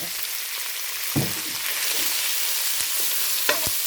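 Pork stir-fries in a hot pan with chili and garlic for Thai basil pork, a steady close sizzle broken by several scraping stirs of the spatula.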